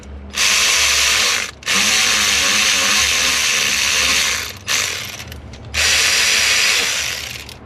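A hand ratchet snugs down the intake manifold bolts on a Vortec 4.3 V6 engine whose intake gasket has failed, in three long, loud bursts of fast clicking separated by brief pauses.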